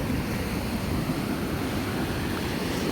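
Steady roar of sea surf on a beach after a storm, with wind noise, continuous and loud, with no distinct breaks and no voices.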